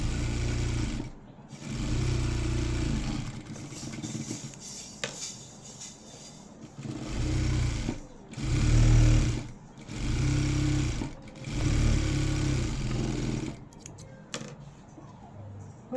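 A sewing machine stitches the lining of a blouse in several loud, rumbling bursts of a few seconds each, separated by brief pauses.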